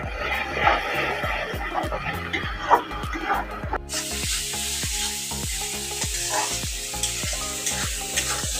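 A spice masala with dried chilli powder and salt is stirred and fried in a pan, giving a loud, close sizzle under a regular run of spoon scrapes and taps, the hiss swelling sharply midway with no speech.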